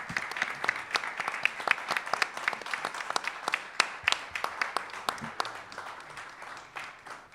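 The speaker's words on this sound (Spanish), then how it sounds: "Aplausos, aplausos" An audience applauding at a memorial tribute, many hands clapping in a fairly quiet, somewhat distant and uneven burst of claps that continues throughout.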